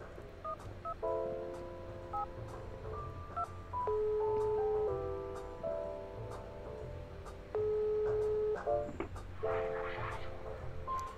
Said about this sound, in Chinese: 我应该可以拨打其他电话吧。